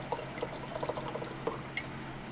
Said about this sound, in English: I'm going to pour another one.